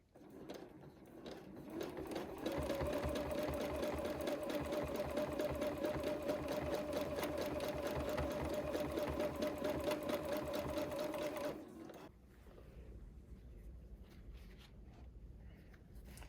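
Sewing machine stitching free-motion quilting, a fast steady mechanical whir with rapid needle chatter running for about eleven seconds before it stops, leaving quieter handling noise.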